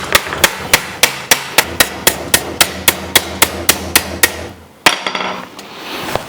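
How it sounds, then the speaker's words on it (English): Low crown hammer refining a metal panel laid flat in a fixture at a metal shaping meet: a steady run of sharp, ringing metallic blows at a brisk even rhythm, close and loud, then a final heavier strike and a short pause. "I can use a low crown hammer to refine it."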